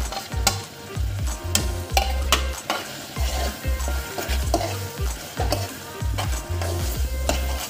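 Onion greens, capsicum and onion are stir-fried in a pan for restaurant-style chicken chilli, a steady sizzle broken by repeated rhythmic scrapes and knocks of the spatula against the pan.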